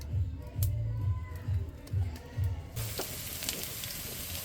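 Oil poured into a hot cooking pot bursts into a steady, bright sizzling hiss partway through, after a few low dull thumps, and keeps crackling evenly and fairly close to the end.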